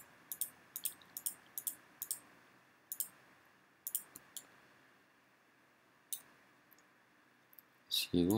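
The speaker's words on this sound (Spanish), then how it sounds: "Suelto el Shift y vuelvo a oprimir la tecla Control para adicionar más nodos" Computer keyboard keys and mouse buttons clicked in quick sharp taps, close and fairly quiet, in irregular bursts over a faint room hum, with a louder clatter at the end.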